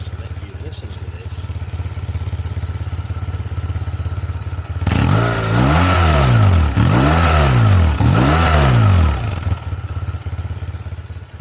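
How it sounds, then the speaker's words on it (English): A BMW R1150R motorcycle engine idles close to the microphone, then revs up in three or four strong rising-and-falling bursts before settling back to a steady idle. "I think that is a very sweet sounding motorcycle."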